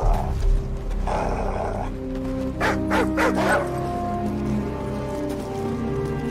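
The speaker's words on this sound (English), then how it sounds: "Shut up, dog." A dog barks in a short rapid run of three or four close, loud woofs in the video game Call of Duty Modern Warfare, over a steady low ambient drone.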